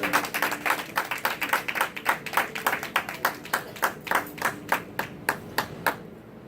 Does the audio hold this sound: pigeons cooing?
no